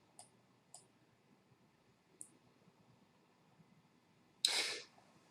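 Three faint, sharp mouse clicks spaced across a quiet stretch, followed by a louder, brief burst of broadband noise near the end.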